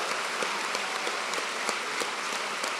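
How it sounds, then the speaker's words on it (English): Graduation ceremony audience applauding the new graduates, a steady wash of many hands clapping, fairly distant and even throughout with no talk over it. "Can we have a big round of applause for all our wonderful graduates today?"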